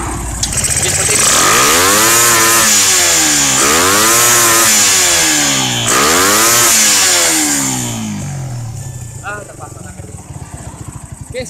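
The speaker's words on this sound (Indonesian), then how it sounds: "Jadi ini tampilan langsam motornya." A Suzuki Satria FU motorcycle fitted with a Keihin PE26 carburetor and an aftermarket BRT ignition unit, running loud and close, its engine droning steadily with rising and falling revs before settling toward a lower idle.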